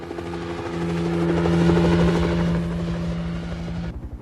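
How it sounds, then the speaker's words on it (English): A helicopter flies close by with a loud, steady droning hum of rotor and engine that swells slightly mid-clip and then cuts away near the end, with no voices. "I'm impressed you've got your own whirlybird. I've been flying helicopters for years."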